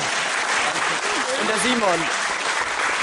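An audience at a domino toppling event claps in thick, continuous, loud applause, while a voice speaks over it partway through.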